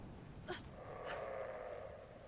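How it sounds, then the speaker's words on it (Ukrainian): A dog in the game Brothers: A Tale of Two Sons gives two short, faint whining growl-like sounds half a second apart, followed by a soft sustained tone against a quiet background. "Все гарчить той пес"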